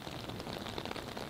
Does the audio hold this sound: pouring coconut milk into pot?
no